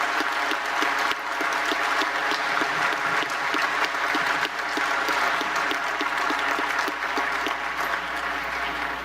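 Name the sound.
audience applause at a closing ceremony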